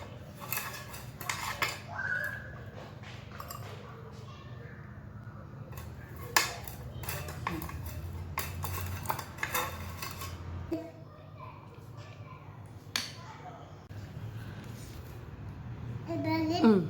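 Banana cake batter with milk and oil is stirred in a bowl, with intermittent clinks and scrapes of a utensil against the bowl while a young child and an adult talk throughout.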